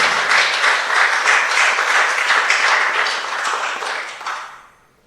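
A church congregation breaks into loud, dense applause with a steady clapping rhythm; it sustains for about four seconds, then quickly fades to quiet.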